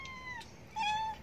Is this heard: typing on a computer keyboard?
no